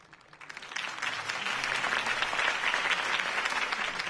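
A crowd breaks into applause after a campaign speech in the video game Batman: Realm of Shadows, swelling quickly from quiet into a sustained, dense clapping that holds steady to the end.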